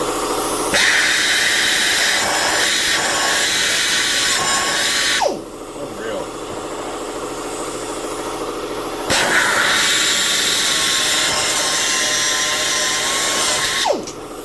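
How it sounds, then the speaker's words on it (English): A handheld grinder cuts into metal to clear debris from a scoop being made for a Superbee, whining loudly and close in two long sustained passes with a short lower-pitched lull between them. "So I'm going to take the grinder and give it another little slice just to get any debris out of there."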